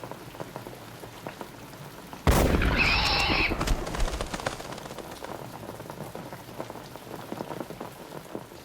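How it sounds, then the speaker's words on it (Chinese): A single sharp, loud gunshot cracks out over steady rainfall pattering on surfaces, in a scene from a Chinese revolutionary-era TV drama. The shot is followed by a brief rumbling decay, and the rain continues on its own afterward. "好枪法！"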